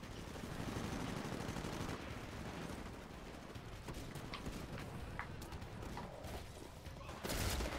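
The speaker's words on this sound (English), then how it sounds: "Oh no, I'm getting shot." Rapid automatic gunfire in the video game Titanfall, rattling bursts of shots in quick succession over a dense, low game soundscape, fairly quiet overall with a louder burst at the end.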